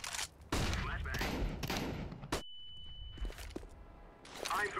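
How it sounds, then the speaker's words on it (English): Flashbang grenade going off in the shooter game Rainbow Six Siege, a sharp burst and gunfire followed by a sustained high ringing tone, with footsteps and game noise around it. "I'm throwing a flashbang."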